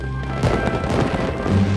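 Fireworks go off in the video game My Time at Sandrock, a series of soft pops and crackles over a sustained musical backdrop, with bursts scattered across the stretch.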